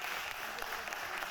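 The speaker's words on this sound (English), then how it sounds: "Please put your hands together for Mr. Shenan Naret." Applause breaks out from the audience at a 20th-anniversary award presentation, a dense, steady wash of many hands clapping at a distance, mixed with a faint murmur of voices.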